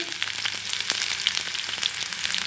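Onion pieces frying in a pan for a dondakaya (ivy gourd) curry, a dense, bright sizzle with small crackles, close and steady throughout the short stretch, no voices.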